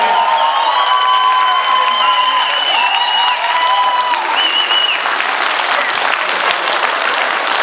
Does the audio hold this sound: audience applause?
yes